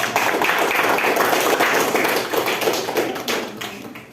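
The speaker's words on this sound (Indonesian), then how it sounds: "Ya, kasih tepuk tangan lagi." Steady applause from an audience in a classroom presentation setting, a dense patter of hand claps that holds level and then thins out toward the end.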